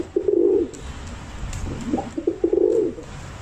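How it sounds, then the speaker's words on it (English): Homing pigeons coo nearby, with two clear soft, low, rolling coos and some quieter bird sounds in between. "Homing pigeons have traditionally been kept as racing birds by hobbyists."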